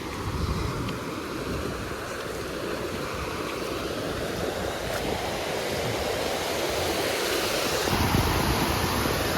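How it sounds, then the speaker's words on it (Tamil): Water pours steadily over the Idappadi Periya Yeri falls, a continuous broadband rushing roar with no break, close and loud, with no talking. "தண்ணி பாருங்க, அருவியில் ஊற்றுற மாரி தண்ணி ஊற்றுது."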